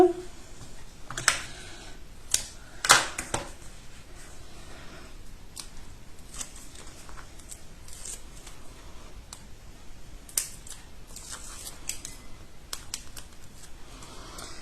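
A tape roller's adhesive refill being swapped at a scrapbooking desk: sparse, quiet plastic clicks and snaps scattered over a faint background hiss.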